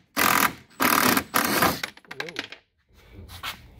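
A power driver fitted with a T30 bit backs out body screws on a Club Car Precedent golf cart in three short, close whirring bursts, followed by a voice speaking.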